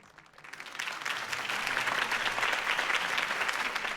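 Crowd applause after a campaign speech in the Batman Telltale video game, swelling from faint to a steady, dense clapping that holds at full strength, with no talk over it.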